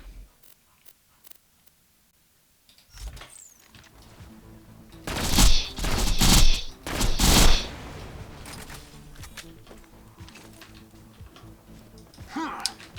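Sniper rifle shots fired at a tank in Borderlands 2, a few loud sharp cracks in quick succession after a quiet stretch, followed by lower game clatter and ticking effects.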